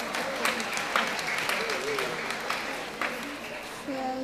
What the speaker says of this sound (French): Applaudis, monsieur.